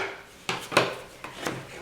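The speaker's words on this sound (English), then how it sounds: "I'm just going to burnish that well." Adhesive paper is burnished flat onto a pocket in a paper craft project, heard as a few short, close rubbing and scraping strokes with small taps between them.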